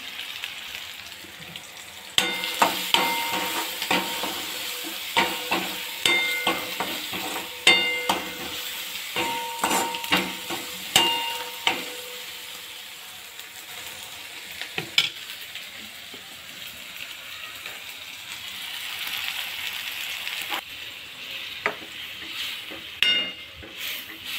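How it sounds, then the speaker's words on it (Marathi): Chopped onion and spices stir-fried in oil in a pan give a continuous sizzle, broken by repeated clinks and scrapes of a metal spoon against the pan, close and with no talking. "इथे बघू शकता तेलात आपला कांदा छान परतलेला आहे।"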